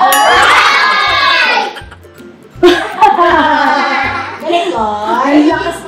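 A child shouts loudly in harmonic bursts among other excited kids' voices and laughter, with a brief lull before the shouting resumes.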